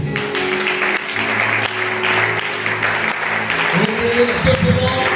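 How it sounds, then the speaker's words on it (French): A church congregation applauds to acclaim the Lord during a worship service, a dense burst of clapping filling the room, with voices mixed in. "On acclame le Seigneur."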